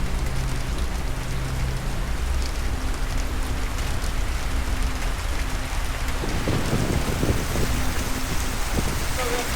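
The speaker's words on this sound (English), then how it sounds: "It's pouring rain." Heavy monsoon rain pours down outside a hotel in Arizona during a lightning storm, a loud, unbroken hiss with low rumbling underneath and some faint voices.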